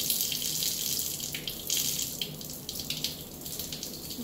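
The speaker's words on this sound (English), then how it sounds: "Can just dump it down the sink with lots and lots of water." A lab sink tap runs hard, flushing dilute hydrochloric acid solution down the drain with plenty of water; steady close splashing rush with small fluctuations, no voices.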